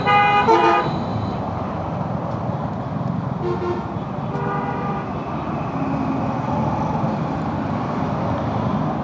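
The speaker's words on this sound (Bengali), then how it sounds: "প্রচুর হর্ন দিচ্ছে, প্রচুর।" Car horns blare in congested traffic at a tight flyover toll point, a loud cluster of honks at first, then more scattered toots over the steady rumble of engines.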